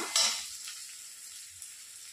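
Tomatoes drop into a hot pan of cooked vegetables, giving a brief louder hiss that settles into a soft, steady sizzle nearby, with no talk.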